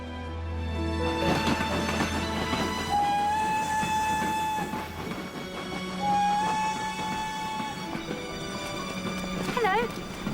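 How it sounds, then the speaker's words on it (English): A train stands at a station platform. Rail rumble and clatter go on under a sustained horn-like tone and a brief whistle, with voices and a public-address announcement mixed in. "The next train on platform 1 is the 4:50 from Paddington."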